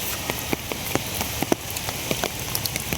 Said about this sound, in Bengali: যাই হোক একবারে যে ধুমছে বৃষ্টি এরকম বৃষ্টি না আপনার হালকা কয়েকটা ফুটা পরে